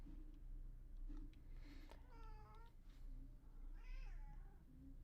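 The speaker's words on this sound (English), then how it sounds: "That's my cat." A house cat meows several times, drawn-out rising and falling calls with short gaps, fairly close but soft, over a quiet room hum with no talking.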